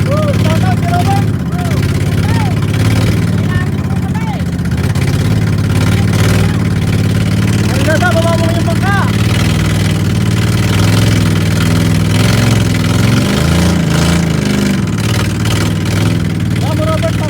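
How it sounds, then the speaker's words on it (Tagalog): A double piston boat engine is test-run, idling with a steady drone and occasional revs, while people talk over it nearby throughout. "May pinatesting sa aming double piston, hindi daw pumalakad."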